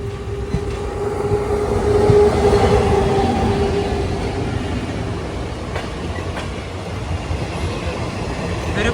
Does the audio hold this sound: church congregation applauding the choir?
no